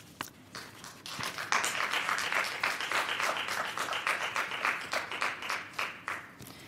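A room of people claps in sustained applause at a board of education meeting, building quickly and holding steady before thinning out toward the end.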